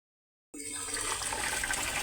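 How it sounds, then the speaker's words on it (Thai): A submersible pump lowered into a household water storage tank starts abruptly and runs as a steady, loud rush of water being drawn up, continuous with no talk. "เดี๋ยวเราจะใช้ ปั๊มไดโว จุ่มลงไปดูดนะ"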